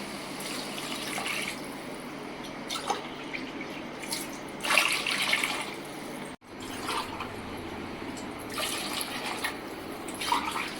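Water is poured into plain rice in a cooking pot for vegetable biryani, a steady close splashing gush that swells and pauses, breaks off for a moment midway, then resumes.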